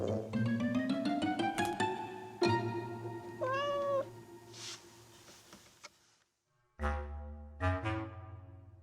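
Several house cats meow in a small home, a run of loud, close, rising and falling cries in quick succession, a brief pause, then more meows.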